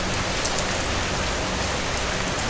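Heavy rain pours steadily onto a surface, a dense, even hiss of drops with no breaks and no voices.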